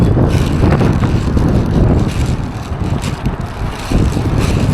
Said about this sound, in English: I'm telling you, it's almost too friggin' windy.